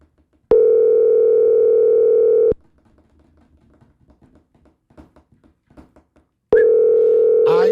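An unanswered telephone call gives a loud, steady ringback tone lasting about two seconds, then a quiet pause with faint clicks, then the same tone starts again.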